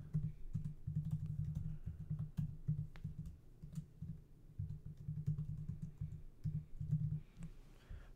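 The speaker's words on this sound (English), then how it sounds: "type in the following command." Keys on a Mac computer keyboard are tapped steadily as a command is entered, a soft, close run of irregular clicks with brief pauses that continues throughout.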